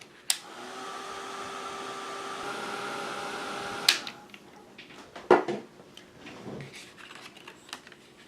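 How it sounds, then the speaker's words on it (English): A heat tool or dryer blows steadily for about three seconds to dry a spray-painted journal tag, a quiet whirring hum that clicks on and off, followed by a few soft handling taps. "Gonna give it a quick dry."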